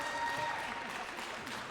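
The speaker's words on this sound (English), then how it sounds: "Just want to give a big round of applause for our guests this week, Michelle Cann and John Wineglass." An audience gives a round of applause for visiting musicians, a steady, fairly faint wash of clapping held at a distance for a brief moment.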